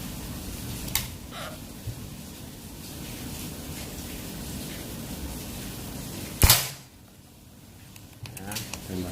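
A Predator Mini Phyton-L PCP air rifle with a 40 cm seamless barrel fires one sharp, loud crack against a steady background hiss, followed by quieter handling clicks.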